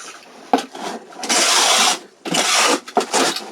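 A handheld packing tape gun seals a 12 by 6 by 6 inch shipping box, with several harsh screeching pulls of tape and sharp clicks and thumps between them, close and loud.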